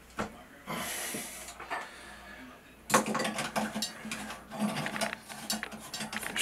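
Metallic clattering and scraping as a Delta 1300 shower valve cartridge, its threads freshly greased, is worked back into the valve body; a hissy burst early on, then a string of close, irregular clicks and knocks with no talk.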